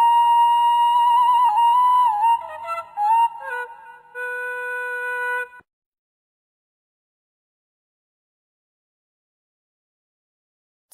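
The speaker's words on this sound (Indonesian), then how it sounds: "Suara suling." A bamboo flute plays a few sustained, wavering notes and short melodic turns, then stops, leaving several seconds of silence.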